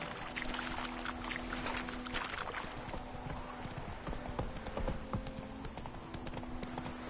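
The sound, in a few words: horse hooves trotting in a video game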